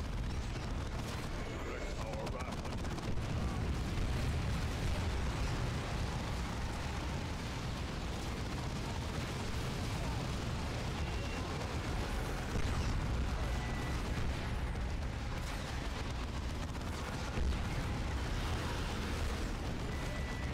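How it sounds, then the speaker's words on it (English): Plasma cannon blasts and other battle explosions roar continuously in Dawn of War 2 with the Wrath of the Blood Ravens mod, a dense, loud wash of booms and gunfire with a player talking over it. "the plasma cannon is so good"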